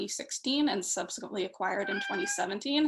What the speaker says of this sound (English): I apologize if you can hear my cat meowing right now.